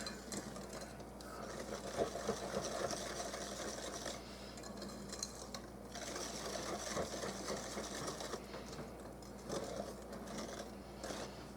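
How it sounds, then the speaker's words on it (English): Brownie batter is whisked together in a bowl with a continuous, rhythmic scraping and clicking that is close but fairly quiet, over a faint low hum. "we're just going to get that whisked together."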